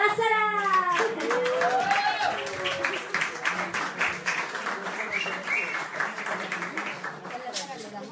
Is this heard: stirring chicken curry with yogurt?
no